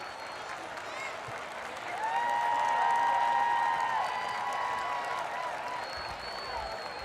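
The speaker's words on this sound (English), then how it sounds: "Please stand for us now so that we may applaud you for your service." Stadium crowd at a Waco ISD high school football game applauding veterans, a broad swell of clapping and cheering that rises after two seconds and holds, with whistle-like tones and an announcer's voice over it.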